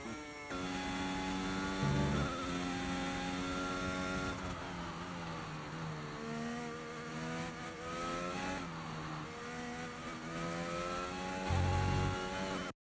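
A Ford Formula 1 car's engine in a racing video game, revving steadily with rising and falling pitch sweeps as it shifts through gears, loud and continuous for the whole stretch with no talking.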